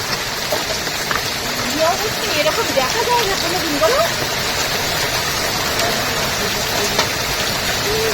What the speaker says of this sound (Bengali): প্রচন্ড শিলাবৃষ্টি হচ্ছে।